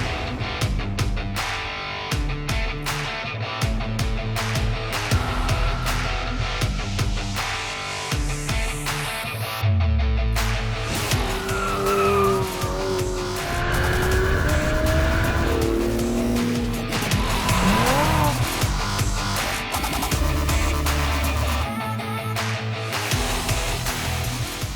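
Twin-turbo supercars, a Ferrari 488 Pista, McLaren 720S and Porsche GT2 RS, lap a racetrack with a loud, continuous engine roar, shifting revs and repeated tire squeals as they skid through corners.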